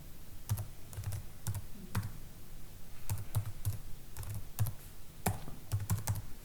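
Keys clack in steady bursts and short pauses as someone types on a computer keyboard, close and alone with no voices.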